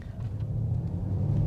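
A 2023 Ford Mustang Mach-E electric car accelerates at full throttle, heard from inside as a steady low rumble of road and drivetrain noise that builds slightly, with no speech over it.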